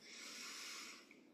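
One long, deep breath is drawn in through the nose during a chair yoga session for anterior hip replacement recovery, close and soft with a breathy hiss, heard alone.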